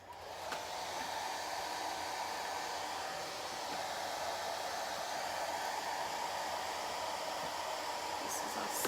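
A hair dryer on its cool setting blows steadily over chalk paste, a loud, even rushing whoosh that holds without a break from start to finish.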